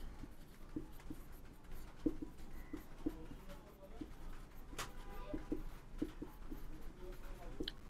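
Pen writing on paper nearby in a quiet room, with soft, faint scratching strokes in short bursts and a brief sharp tap partway through.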